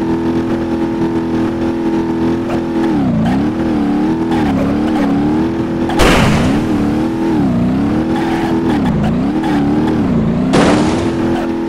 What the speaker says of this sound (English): The engine is just flopping around like crazy.